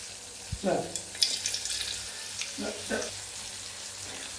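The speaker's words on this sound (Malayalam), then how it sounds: "അപ്പോൾ എണ്ണ ചൂടായിട്ടുണ്ട്. ഞാൻ ഇച്ചിരി വെളുത്തുള്ളി ഇട്ട് കൊടുക്കുന്നുണ്ട് അതിലേക്ക്." Garlic dropped into hot oil and frying, a crackling sizzle with a few stirring clinks, moderately loud and close.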